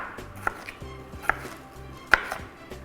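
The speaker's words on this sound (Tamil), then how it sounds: "இந்த கேப்சிகமை கட் பண்ணிக்க போகிறேன்" A knife chopping capsicum on a cutting board, three crisp distinct knocks spaced about a second apart over soft background kitchen noise, close and without talk.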